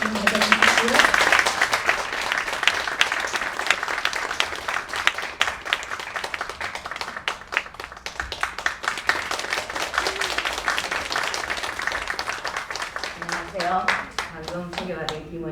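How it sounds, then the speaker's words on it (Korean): An audience bursts into applause to welcome a speaker onto the stage at a Korean traditional dance lecture, dense clapping that fades and thins out near the end as a voice begins talking. "여러분 큰 박수로 맞아주시고요"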